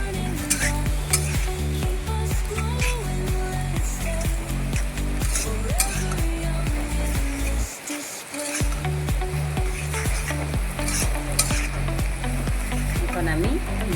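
Potatoes frying in a hot pan for a soybean and potato vegetable curry, a steady loud sizzle with stirring clatter throughout, briefly dropping out near the middle before resuming.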